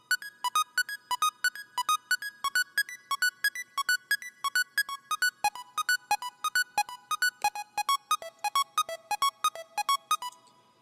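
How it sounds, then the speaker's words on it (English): Synth arpeggiator patch cycling fast, bright plucked notes in an even repeating pattern, shifting to a lower chord midway, clean and alone with no voices. "the last patch we have here is my arpeggiator"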